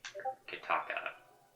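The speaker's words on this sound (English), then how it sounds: "I got a text message." A text message notification chime in the video game Anodyne 2, a short run of bright synthetic tones in several quick bursts that fade out over under two seconds, heard alone with no talk.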